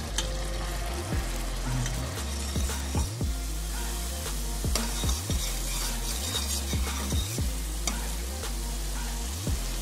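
Garlic, ginger and tomato masala sizzles steadily in hot oil for a lauki kofta curry, with a spoon stirring and scraping the pan in a loose repeating rhythm; close and continuous, no talking.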